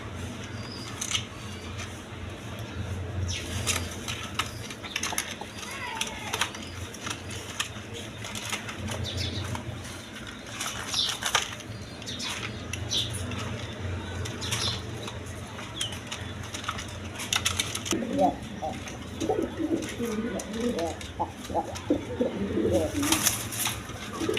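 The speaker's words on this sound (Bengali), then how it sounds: "এইখানে এক পেয়ার আপনার হাই ফ্লাইং গিরিবাস কবুতর আছে।" A pair of high-flying Giribaz pigeons shuffle and flap with light, scattered clicks and wingbeats, then break into low, repeated cooing near the end, close and fairly quiet.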